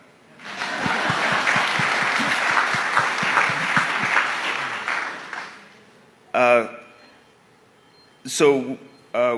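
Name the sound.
audience clapping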